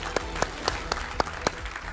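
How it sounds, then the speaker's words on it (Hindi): Applause from a TV debate show's studio audience, with several sharper claps standing out at a steady pace over a continuous patter of clapping. "करगिल वॉर वेटरन और मेजर जनरल के सिन्हा साहब का तालियों के साथ अभिनंदन कीजिए।"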